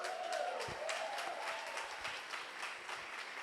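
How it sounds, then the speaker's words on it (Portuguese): Audience clapping at an Easter church retreat, a steady burst of applause from a gathered crowd, fairly close and continuous throughout with a few louder individual claps. "Quero ouvir palmas."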